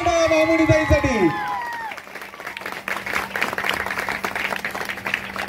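At a Navratri festival Home Minister paithani saree game, a crowd breaks into applause and cheering for the winner, starting just after a raised voice and building into dense, continuous clapping.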